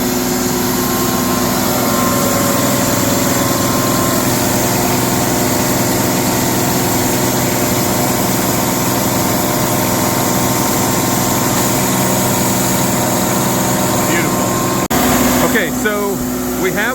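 A Timberking sawmill engine runs steadily on a Tennessee farm, a loud continuous drone throughout, with a brief change in the mechanical sound near the end.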